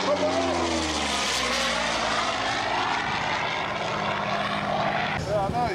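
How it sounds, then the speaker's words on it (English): A propeller aeroplane flies overhead at the Little Gransden Airshow in 2007, its loud, steady engine drone filling the air and shifting slowly in pitch as it passes. "there's an aeroplane flying above"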